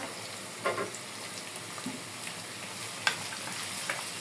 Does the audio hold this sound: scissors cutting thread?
no